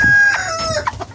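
Sebright chickens cluck and a rooster crows in short bursts, close and clear, several calls overlapping over about a second with no talking.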